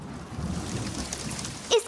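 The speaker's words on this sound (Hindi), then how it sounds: "अगर बारिश को इग्नोर करें तो शायद ये जल्दी बंद हो जाए" Steady cartoon rain, a dense hiss of falling drops with a low rumbling undertone, continuing without pause and briefly swelling near the end.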